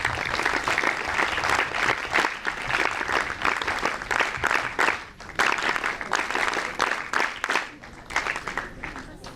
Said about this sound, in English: With a huge round of applause, we welcome the contingent of Jammu and Kashmir.